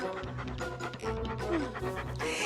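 A dog pants rapidly and steadily up close, with a few faint whimpers mixed into the quick breathing.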